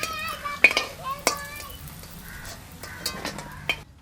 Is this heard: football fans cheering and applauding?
no